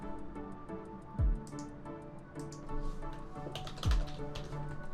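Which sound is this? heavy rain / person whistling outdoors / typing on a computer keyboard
typing on a computer keyboard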